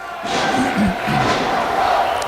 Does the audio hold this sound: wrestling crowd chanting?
yes